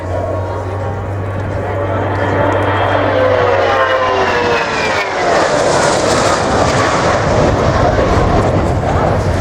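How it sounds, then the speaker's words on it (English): A Royal New Zealand Air Force Boeing 757 jet passes at speed, a loud sustained engine roar with a falling whine that swells as it goes by. A commentator talks over it. "Right, accelerating now, hopefully up towards 600 kilometers per hour. Ladies and gents, the New Zealand Air Force Boeing 757."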